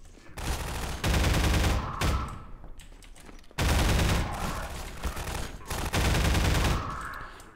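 Loud bursts of weapon fire from Half-Life 2 gameplay, with two long dense volleys separated by short pauses and sharp single reports between them, all close and without talk.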